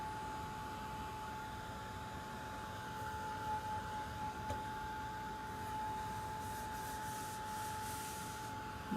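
Steady close rubbing and scraping from sanding a painted wooden chalk-transfer sign, continuous abrasive noise throughout with a faint constant hum underneath.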